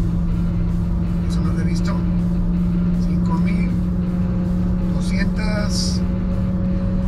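An MG GT car's engine revs and climbs in pitch, held loud and steady up close, with a person talking over it.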